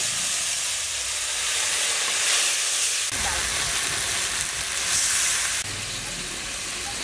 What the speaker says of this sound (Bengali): এই মশলাটা দিয়ে আমি এবার একটু কষিয়ে নেব